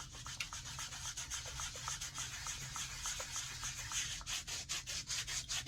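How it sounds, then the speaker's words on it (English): Wet pumice stone loaded with exfoliant scrubbed against a foot during a home pedicure, giving a steady close-up rasping rub in quick repeated strokes, loud and continuous with no talking. "I take this Puma Stone, I wet it, I put the exfoliant on it,"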